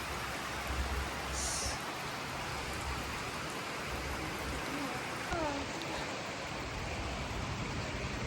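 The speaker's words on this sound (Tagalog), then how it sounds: "Bugnaw gyud ilang ulan diri" Cold rain falls outside in a steady, dense hiss, loud and continuous throughout, with a brief faint voice or sound in the background.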